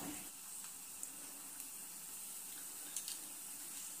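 Tempering of red chillies and turmeric in hot oil for a radish and chilli roti pachadi: a faint, steady sizzle and hiss runs throughout, with a few small ticks and no voices.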